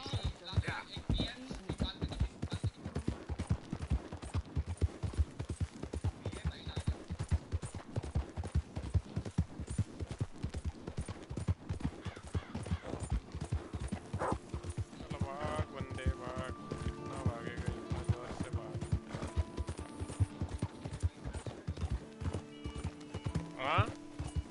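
Steady rhythmic horse hooves clip-clop through a Red Dead Redemption 2 ride, continuing throughout at close range, with music and a voice coming in over the later part.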